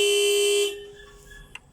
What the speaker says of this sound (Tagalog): Busina muna para warning.